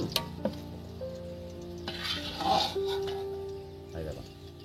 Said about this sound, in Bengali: আর বিনস কড়াইটা, এটা তেলের মধ্যে ভাজা হয়ে গেছে